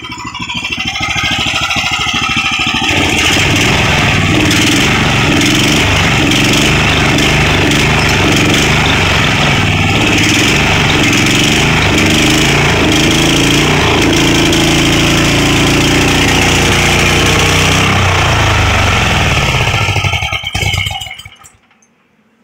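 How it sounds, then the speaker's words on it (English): A small gasoline engine with a belt drive runs steadily at close range, loud and continuous, then sputters and dies near the end as the carburetor runs dry, leaving silence. "So we're going to let the carburetor just run out."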